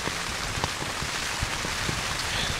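Steady rain pattering on a surface on Titterstone Clee Hill, a constant dense hiss with occasional heavier drops, no voices.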